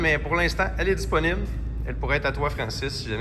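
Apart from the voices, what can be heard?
No distinct noise like a dog, phone or traffic.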